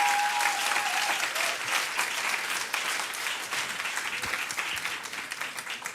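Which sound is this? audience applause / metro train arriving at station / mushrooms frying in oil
audience applause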